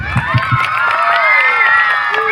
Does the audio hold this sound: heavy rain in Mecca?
no